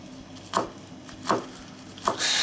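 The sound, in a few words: chopping cresson (watercress) with a knife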